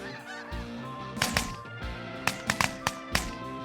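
Geese honking during a waterfowl hunt, a flock calling repeatedly with overlapping nasal honks at moderate distance, joined by a few sharper, louder calls toward the end.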